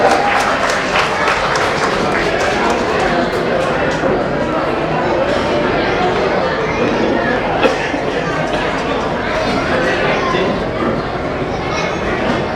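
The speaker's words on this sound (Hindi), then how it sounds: "हमारी प्यारी सी बेटी का हौसला अफजाई तालियों से हो जाए यार।" Steady applause from a crowd fills the whole stretch, a dense continuous patter with voices and chatter mixed underneath.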